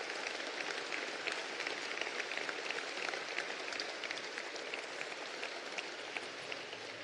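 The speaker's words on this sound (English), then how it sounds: "big round of applause for all of our youth athletes" Sustained audience applause at the closing ceremony of the Virtus Oceania Asia Games 2022, a dense even wash of clapping for the youth athletes that holds steady the whole time with no pauses.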